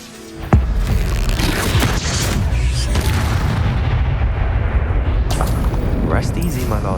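A Bombarda spell goes off in Hogwarts Legacy with a sudden loud blast, followed by a sustained roaring, rumbling burst that fills the remaining seconds at close range.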